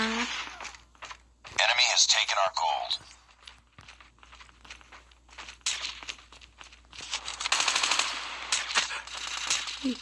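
Gunfire bursts from a Call of Duty capture-the-flag match, rapid automatic fire crackling in loud clusters with gaps between, alongside game sounds and brief footstep-like crunches.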